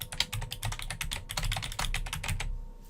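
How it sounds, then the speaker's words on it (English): Rapid, fairly loud typing on a computer keyboard, close and alone, with dense keystrokes for over two seconds before stopping abruptly. "I'm just going to type the new name now"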